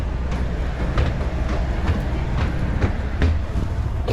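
Pariaman Express passenger train on a railway line in Sumatra, a long rumble with steady clickety-clack of wheels over rail joints, close and continuous without talk.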